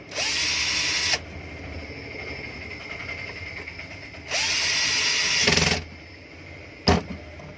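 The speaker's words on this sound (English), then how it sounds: "Now we use our Makita tool gun to repair noisy ceiling fan." A Makita power tool whirs in loud bursts while a noisy ceiling fan is repaired: a one-second run, a pause, a longer run of about one and a half seconds, then a brief blip, with no talk.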